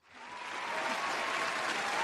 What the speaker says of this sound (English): let me get the claps ready